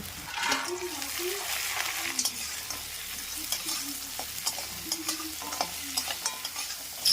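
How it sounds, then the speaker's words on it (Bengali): Sundarban crab legs fry with onions in a pan, a continuous sizzle and spatter broken by stirring scrapes, with a voice faintly audible underneath. "কাঁকড়ার পাগুলি দিয়ে খুব ভালোভাবে ভেজে নিয়েছি"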